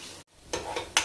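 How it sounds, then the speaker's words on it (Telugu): Cashews and spices dropped into hot oil for a mushroom curry, giving a brief quiet sizzle after a short gap, then two sharper bursts of frying crackle close by, with no talk. "ఇవి ఆయిల్లో కొంచెం ఒక రెండు నిమిషాలు అండి వేయాలి కొన్ని జీడిపప్పులు కూడా వేస్తున్నానండి"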